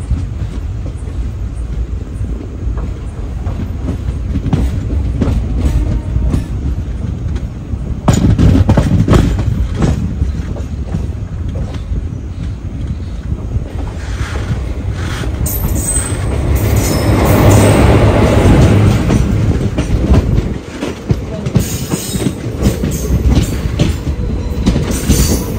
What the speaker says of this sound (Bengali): ট্রেন কিন্তু এসে পৌঁছালো তার সেকেন্ড হল্ট এরোডি জাংশন